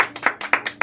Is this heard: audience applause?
yes